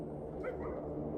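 Dogs yipping and whimpering in extreme cold near minus 60 in Yakutia, short excited bow-wow calls close by over a steady low rumble, lasting about a second.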